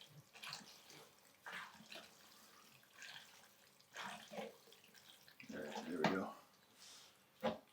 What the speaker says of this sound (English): Stir that up. Starting to get pretty sloshy.